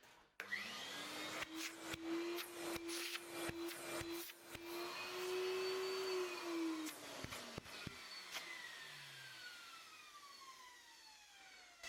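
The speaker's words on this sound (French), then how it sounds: "on va aspirer tout ça" A vacuum cleaner fitted with a reusable bag whines steadily up close as it sucks up debris, its pitch rising and falling slightly, with rattling clicks of particles hitting the nozzle before the motor spins down.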